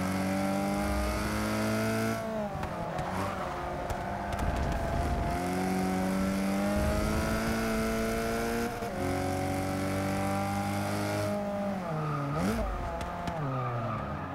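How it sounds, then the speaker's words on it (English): Racing video game engine, a race car in a touring car event on an alpine course, drones loudly and steadily throughout, its pitch rising and falling with gear changes, with tire skids and brief dips as the revs drop. "Why is the engine slowing up?"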